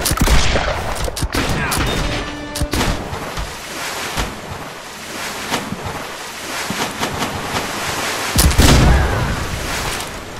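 Cannon and gun fire in the pirate ship game Blackwake, a loud barrage of overlapping shots and booming blasts in clusters, heaviest at the start and near the end, with churning sea noise between.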